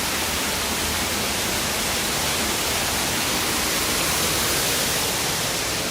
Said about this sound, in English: this big waterfall you can see from the front